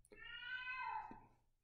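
A house cat lets out one drawn-out, loud, wavering meow, close by and alone for about a second.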